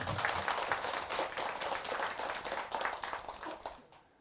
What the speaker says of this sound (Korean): 한번 큰 박수 한번 부탁드립니다